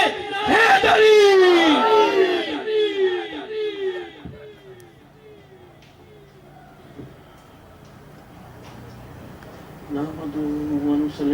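A crowd at an Eid Milad un Nabi religious gathering chants slogans together in loud, repeated rising calls, which fade into quieter murmurs before another chant starts near the end.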